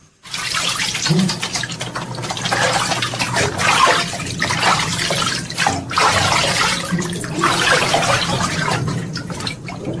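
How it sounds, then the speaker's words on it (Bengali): Water pours steadily from an overhead shower rose into a huge bathtub, pumped up from a tube well: a continuous close rushing splash with slight fluctuations, no voices. "অতিকায় বাথটাব, ওপরে ঝাঁঝরি, নিচে টিউবওয়েল থেকে পাম্প করে এখানে ধারা স্নানের ব্যবস্থা।"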